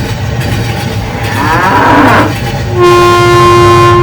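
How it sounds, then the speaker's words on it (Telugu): A train rumbles by slowly and close, its engine drone building, then a sustained horn-like whistle blares over the rolling noise. "రైలు మెల్లగా వెళ్ళింది"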